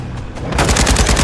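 Rapid automatic gunfire from a Call of Duty MW2 2v2 gunfight match, loud and close, bursting continuously after a brief lead-in.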